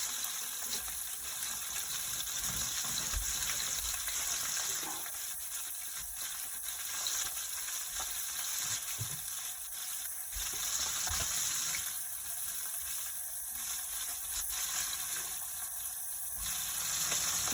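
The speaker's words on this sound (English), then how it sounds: "Wash my hands." Running tap water gushes steadily into a sink as hands are washed at a kitchen stove-top cooking setup, a continuous close splashing hiss with slight fluctuations throughout.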